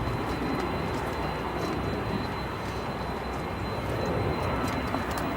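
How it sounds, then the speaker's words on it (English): The General Electric CF6 engines of a FedEx Boeing 767 cargo jet at Chicago O'Hare produce a steady, broad, rumbling roar with a sharp whine on top, while a few faint bird chirps sound in the background. "As you can hear the CF6 engines of the FedEx 767."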